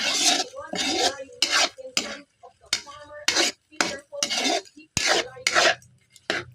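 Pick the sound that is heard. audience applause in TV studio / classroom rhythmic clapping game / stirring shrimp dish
stirring shrimp dish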